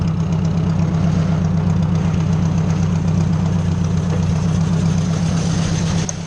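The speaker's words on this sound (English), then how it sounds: "And my throwout bearing's getting bad." Tractor engine idling steadily up close with a rough, gravelly rattle from a worn throwout bearing, a constant low throbbing drone that holds unbroken throughout.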